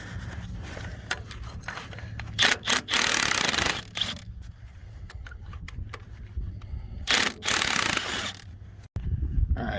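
Work on a Caterpillar RD-4 tractor, with covers being unbolted and pulled: close, sporadic metallic rubbing, clanks and scraping, including a few louder bursts of grinding friction, in a quiet outdoor setting.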